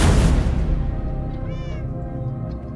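Minecraft cat mewing in the video game, a soft, rising meow heard near the middle of a short stretch of game ambience, with no talking.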